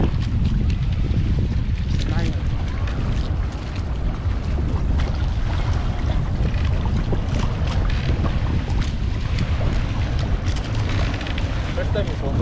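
A sailboat moves under wind power alone with no engine running, heard as loud, constant rushing wind buffeting the microphone over water noise, with voices faint beneath it.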